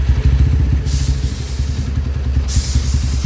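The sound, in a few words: Honda Tiger motorcycle engine with 72 mm stroke kit revving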